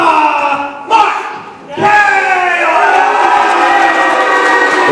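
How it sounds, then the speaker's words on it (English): A wrestling crowd roars for Max Kelly, a loud burst of cheering and shouting that briefly dips, then surges back and holds strong. "the crowd has let their intentions know already, Craig."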